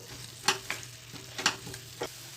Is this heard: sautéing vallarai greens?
yes